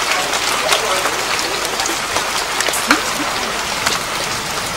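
Rain falling in a rural Mekong Delta setting, a dense, steady patter with scattered louder drops throughout, while people talk faintly in the background.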